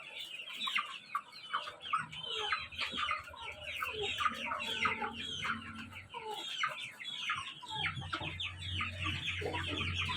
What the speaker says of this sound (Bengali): দেশি মুরগির বাচ্চা আর তিতির মুরগির বাচ্চা ই করতেছি সাইডেই।